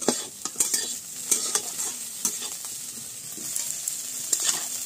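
Figs (dumur) from a home tree fry in a pan, sizzling while a utensil scrapes and stirs them in repeated close, sharp strokes.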